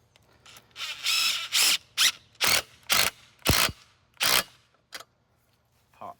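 A ratchet clicks in rapid bursts while tightening an intercooler piping clamp on a 6.4L Powerstroke diesel engine, about seven loud, close bursts with brief pauses between them, then a faint final click.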